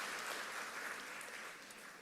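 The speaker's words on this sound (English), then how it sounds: "please give another round of applause for our National Youth Orchestra." Quiet, distant applause at an annual meeting opening ceremony greets the National Youth Orchestra of the Bahamas, a steady crowd clapping that fades slightly toward the end, with no voices.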